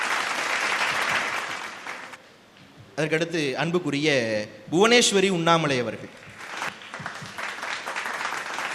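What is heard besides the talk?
audience clapping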